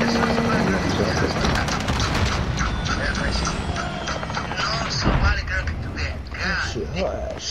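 The chopper gunner helicopter in Modern Warfare Season 3 roars overhead with a steady rotor drone, mixed with gunfire and booming impacts, loud and continuous throughout.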